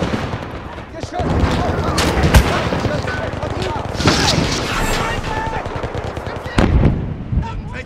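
Machine gun fire crackles in a Winter War battle game as bursts of rapid shots and booms pile up close and loud, with shouting voices mixed into the din.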